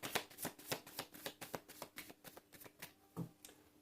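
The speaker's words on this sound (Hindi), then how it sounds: "this is my last shuffle" Tarot cards being shuffled by hand, heard as a quiet series of distinct slaps and flicks in a regular rhythm, close and soft.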